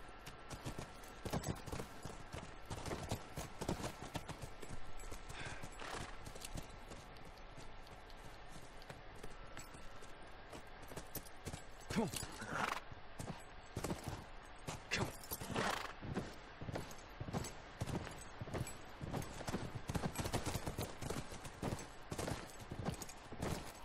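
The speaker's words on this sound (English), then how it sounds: "back to the horses" Horses walk through the video game The Last of Us, their hooves clip-clopping in a steady, irregular patter that stays up close. Gunfire-like bursts rise briefly over the hoofbeats, and no one speaks.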